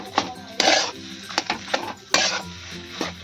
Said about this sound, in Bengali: নুনটা দেওয়ার পরও আমি ভালো করে নাড়িয়ে দেবো।